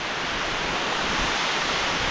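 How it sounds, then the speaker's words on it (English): Steady, loud roar of a waterfall inside a cave: a dense, unbroken rush of falling water with no pauses. "Do not swing into the waterfall."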